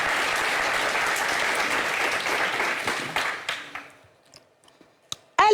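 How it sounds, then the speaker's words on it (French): A studio audience on a French-language talk show claps warmly, a dense roll of applause that fades out after about three seconds into scattered claps, followed by a short loud burst of sound at the end. "Applaudissez pour ça."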